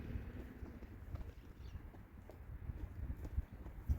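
A horse offered for sale moves outdoors, its hooves making faint, irregular clip-clops over a low rumbling background, quiet and fairly distant, with no talking.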